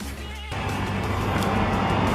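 A boosted Mazda Miata engine fires for the first time, catching abruptly after a brief quiet moment and then running loud and steady close by.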